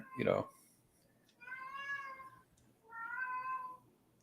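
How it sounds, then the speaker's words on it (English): A pet cat meows twice indoors, two drawn-out, clearly pitched cries about a second apart, following a brief louder burst of a voice at the start. "Oh, that was a cat."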